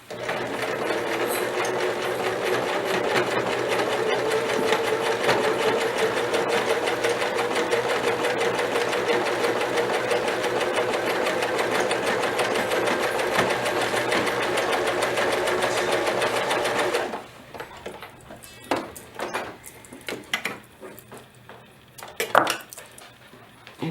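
A sewing machine runs steadily for about seventeen seconds while stitching a wide preset stitch, a close, even mechanical whir, then stops, leaving a few small clicks and handling knocks.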